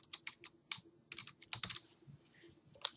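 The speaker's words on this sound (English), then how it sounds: "I want also in the ad set name to type in the address" Rapid typing on a computer keyboard as an address is entered, with irregular clusters of crisp key clicks recorded close and fairly quiet, alone with no talking.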